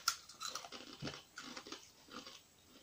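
Crunchy, spicy Korean snack being chewed up close, a few crisp crunches and bites in an irregular rhythm, quiet and on its own with no talk.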